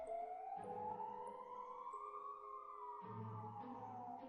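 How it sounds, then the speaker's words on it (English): An ambulance siren outside wails in a slow rising and falling sweep, faint and distant, with a soft steady tone running underneath. "Wonder if you can hear the ambulance"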